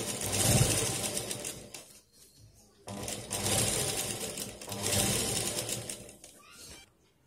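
Sewing machine stitching around a round piece of a cloth shopping bag, two close bursts of fast rhythmic needle clatter separated by a short pause, with the machine slowing at the end.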